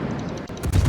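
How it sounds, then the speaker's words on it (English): Rapid gunfire strikes a warship in the naval video game World of Warships, a dense, loud burst of impacts and explosions lasting under a second, with a heavier thud near the end. "I'm getting shot at."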